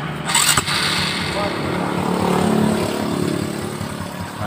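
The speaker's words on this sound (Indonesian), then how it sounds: "Kita hidupkan dulu untuk motornya." A motorcycle engine is started before carburetor tuning, with a sharp start-up burst that settles into a steady idling drone, and someone talks over it.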